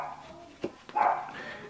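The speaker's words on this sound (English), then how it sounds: "Sorry if you can hear my dog barking." A dog indoors gives a couple of faint muffled barks in the background, one short yelp followed by a longer bark, heard at a distance inside the house.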